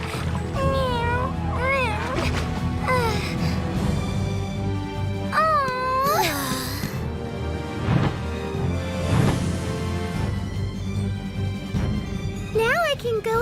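Cat-like meowing cries from a character in the video game Star Ocean The Last Hope, likely a voice performing the meows, repeating several times with rising and falling pitch over game music and sound effects.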